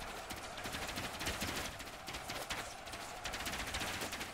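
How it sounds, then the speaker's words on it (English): Dense, continuous volleys of rapid gunfire from machine gun archers in Ultimate Epic Battle Simulator, a massive orc versus medieval army siege, crackling steadily throughout amid chaotic battle noise. "Machine gun archers firing with precision."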